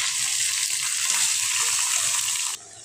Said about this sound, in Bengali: সবটি পটল আমি ভেজে নিব